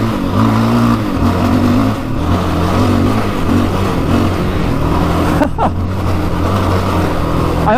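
A 700cc quad ATV engine drones loudly and steadily while riding, a close low hum with rising and falling pitch shifts as the throttle changes, and no voices.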